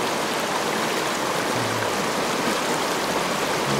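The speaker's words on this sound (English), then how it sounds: "Water's pretty chilly, still spring runoff. Creek's starting to rise a little bit" A Colorado mountain creek swollen with spring snowmelt runoff rushes in a steady, dense wash of water noise, loud and unbroken throughout.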